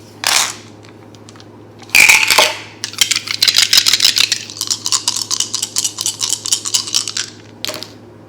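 Dice rattle and clatter across a surface in a few separate rolls, with dense bursts of sharp clicks and a quieter pause between them, close and fairly loud with no voices.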